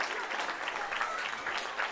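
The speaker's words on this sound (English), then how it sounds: "It's a deserved round of applause" Steady applause from a stadium crowd after a point is scored in a Leinster ladies' minor Gaelic football final between Dublin and Kildare, sustained and even, with faint voices mixed in.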